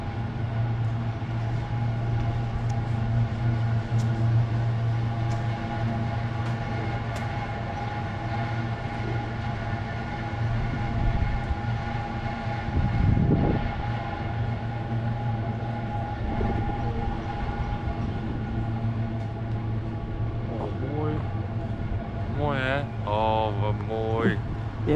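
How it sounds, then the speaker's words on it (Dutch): A San Francisco cable car rumbles and whines steadily past on its rails for a long stretch near Fisherman's Wharf, with street noise and people talking nearby. "Dit zijn van die trammetjes."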